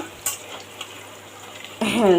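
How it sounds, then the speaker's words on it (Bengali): Moong dal frying in tempering oil in a kadai; after a quiet stretch with a couple of faint clicks, a loud sizzle bursts in near the end and continues steadily. "এই ফোড়নের তেলের মধ্যে মুগ ডালটা দিয়ে দিয়েছি মুগ ডালটা একটু হালকা তেলের মধ্যে ভেজে নেবো"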